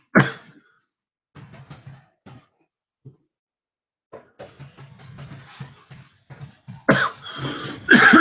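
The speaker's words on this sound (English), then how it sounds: "I mean, cough right in your face." A few sharp coughs and throat clears, close to the mic, separated by quiet gaps, ending in a louder burst of coughing.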